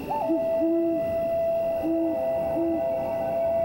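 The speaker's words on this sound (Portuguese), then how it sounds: "estamos em busca do corujão da Virgínia, um pássaro noturno que aninha meses antes de outros pássaros predadores" A great horned owl hoots at night, a few deep, soft hoots in a short broken series, close and clear over a faint steady background hum.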